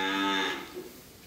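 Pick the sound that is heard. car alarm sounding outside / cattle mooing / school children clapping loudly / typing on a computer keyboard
cattle mooing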